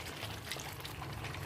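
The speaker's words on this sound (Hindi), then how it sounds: "अब हम इसमें डाल रहे हैं हरी मिर्च और डाल देंगे ग्रेवी के हिसाब से पानी" Water poured into a Mughlai handi chicken gravy in a cooking pot, a steady continuous splashing pour with no gaps.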